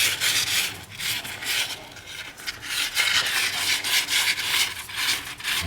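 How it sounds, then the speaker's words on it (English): Sandpaper of 800 grit rubs over the rotor of a scooter starter motor in steady, close back-and-forth rasping strokes, with no talk. "take some 800 grit sandpaper and just clean the rotor there"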